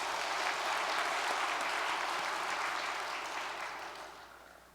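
A lecture-hall audience claps in steady, dense applause, loud at first and fading out over the last second or two, with no talking.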